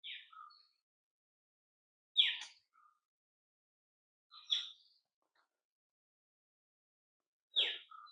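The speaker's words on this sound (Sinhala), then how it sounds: "ඇහෙනව සද්ද කුරුල්ලන්ගේ" Forest birds in Sri Lanka give a few separate bright chirps and short calls spaced several seconds apart, moderately close, with near silence between them.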